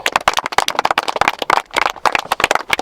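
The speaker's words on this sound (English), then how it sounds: "Let's get a little clap." A Sunday league football team claps together for their captain before a cup game, a dense burst of many hands clapping rapidly and unevenly at close range for about three seconds.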